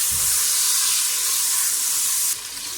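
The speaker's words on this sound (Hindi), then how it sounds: "नमक और हरी मिर्च, ये डाल के हम थोड़ा सा इसको फ्राई कर लेंगे" Salt and green chilies frying in a pan for a turnip, radish and spinach sabzi: a loud, steady, close hiss of sizzling oil that shifts slightly in tone just before the end, with no voices.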